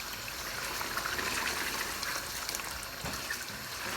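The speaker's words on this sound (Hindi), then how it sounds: "अब इस पॉइंट पर मैं इसमें पानी ऐड कर रही हूँ।" Water poured into a pan of frying mutton meatballs for curry, a soft steady gush and splash with faint sizzling beneath, fairly quiet and without talk.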